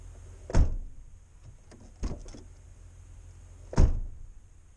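Interior door of a 2005–2012 UAZ Patriot SUV opening, three separate low thunks and clicks spaced a second or two apart, close and fairly loud over a quiet background.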